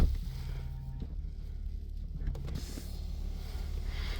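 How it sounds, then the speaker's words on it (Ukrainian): Electric rear window sunshades in a 2016 BMW 730 moving, a faint steady motor whine heard twice against a low continuous cabin hum, no talking. "Є електронні шторки ззаді на вікнах."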